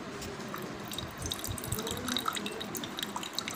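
Water trickling steadily from a homemade water dispenser into a cup, a soft continuous flow with light drips, quiet and close.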